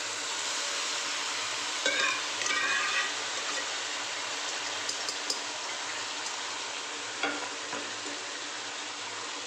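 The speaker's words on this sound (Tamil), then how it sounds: "சேர்த்துட்டு நல்லா மிக்ஸ் பண்ணி விட்டுக்கலாம்." Cooked goat intestine is mixed into fried masala for a curry, giving a soft, steady sizzle with faint scraping stirs and light utensil taps at moderate distance.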